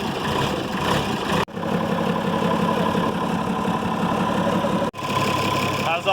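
A Freightliner Unimog FLU419 rescue truck's diesel engine runs at a steady, throbbing idle close by, broken by a couple of brief dropouts, while people talk over the rumble.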